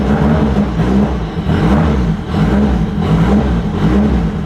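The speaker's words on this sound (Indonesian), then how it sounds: "Udah lama gue nggak dengar suara SR20 DET." Nissan SR20DET engine with a straight pipe exhaust, running loud and steady close by with a throaty, rumbling drone and revs that rise and fall, no talking over it.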